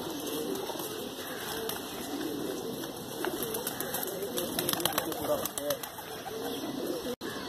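Kaldumme and Nildumme pigeons cooing softly amid a steady background hum, with occasional faint wing flutters, someone speaking over them.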